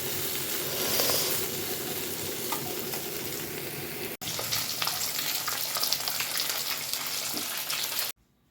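Onion stalks and potatoes fry in a pan, giving a steady, close sizzle with stirring scrapes, briefly interrupted midway and ending abruptly in near silence.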